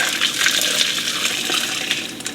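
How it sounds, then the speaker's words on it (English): Reduced homemade hot sauce for wings, cooked down by about half, poured from a pot back into a blender: a steady, close splashing gush of thick liquid lasting a couple of seconds. "And we're gonna pour this back into the blender."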